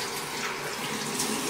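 Baking soda water pours down a sink in a steady, close splashing rush that lasts the whole moment, with no talk.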